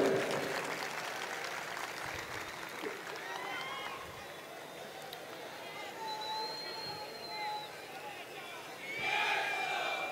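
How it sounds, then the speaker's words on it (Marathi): Crowd at a Raj Thackeray political rally applauding and cheering, a wide, distant roar of clapping and shouts with whistles rising above it, swelling again near the end. "टाळ्या जोरदार झाल्या पाहिजे।"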